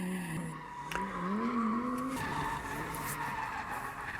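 Lamborghini drifting with its rear-wheel-drive tail kicked out, tires squealing and skidding with rising, sliding screeches over a constant engine drone, fairly faint and distant.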